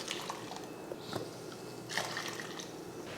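Water goes into a pot of chickpea kurma with coconut, a soft trickle and splash with a few brief dripping accents, heard close and fairly faint with no talking.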